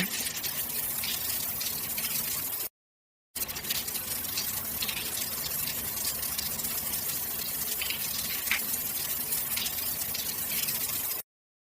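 A shower runs in a steady, dense hiss of spraying water, cut off briefly once and then resuming until it stops abruptly near the end. The water is close and loud.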